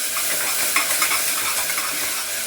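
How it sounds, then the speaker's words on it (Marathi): Onion and tomato sautéing in a pan in a home kitchen, a continuous close sizzle with repeated scraping of a spoon stirring against the pan, moderately loud, with no talk. "आता हे चांगलं परतून घेते मी. कांदा टमाटर चांगला परतलाय."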